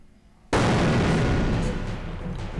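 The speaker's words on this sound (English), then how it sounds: "I'm calling it explosion." A sudden, loud explosion from the video game Nexomon Extinction erupts after a quiet moment, followed by a sustained, roaring rumble that slowly eases off.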